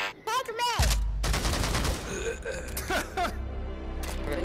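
Rapid bursts of gunfire ring out in the VR shooter Pavlov, loud and close, mixed with people's voices talking and reacting.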